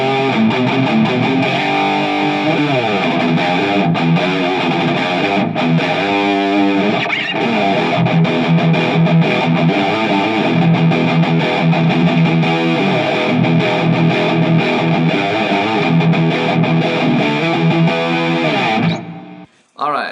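An electric guitar through an ENO Music distortion pedal, set heavily distorted, plays chunky, crunchy metal riffs and sustained notes, loud and steady, cutting off abruptly near the end.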